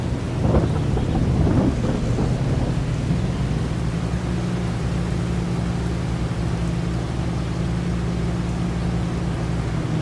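Video game thunder and rain on a farm: a low rumble of thunder rolls through at the start, then fades under a steady wash of rain and a constant low hum.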